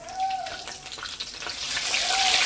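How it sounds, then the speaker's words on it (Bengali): Whole garam masala and four bay leaves dropped into hot oil, a soft hiss of sizzling that swells gradually and holds steady, heard close with faint kitchen noise. "এই যে গরম মশলাগুলো গোটা গরম মশলাগুলো তেলের মধ্যে ছেড়ে দেবো"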